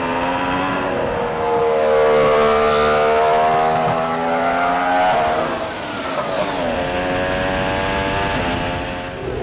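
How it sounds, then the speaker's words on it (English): A Williams FW08 Formula One car with its Cosworth engine runs at Silverstone, a sustained harmonic drone that swells and falls as the revs rise and drop over several seconds, heard from a moderate distance. "we can hear the FW08 purring away in the background"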